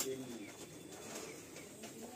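Giribaj pigeons in a loft, including a female, make faint low cooing beneath steady room noise: soft, murmuring coos that stay in the background throughout.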